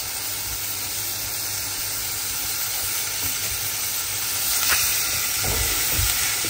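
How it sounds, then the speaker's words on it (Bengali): Rice and lentils fry in a little oil with ginger garlic paste for bhuna khichuri, giving a steady, soft, continuous sizzle and hiss from the pan that rises slightly toward the end, with no voices. "সাথে আদা রসুন পেস্ট দিয়েছি 2 কিউব, আর সামান্য তেল দিয়ে চাল ডাল একসাথে একটু ভেজে নিব"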